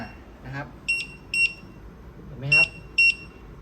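Barcode scanner beeping as it scans a water pump at a shop counter: four short, bright electronic beeps in two pairs, with quiet handling noises between them and no one talking.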